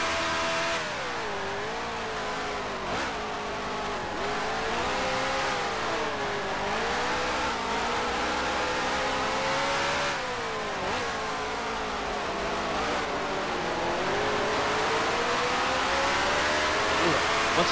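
A race car engine in the Grand Prix Legends racing game revs loud and steady through a seven-lap race, its pitch rising and falling with each gear shift and corner, with no other sounds standing out.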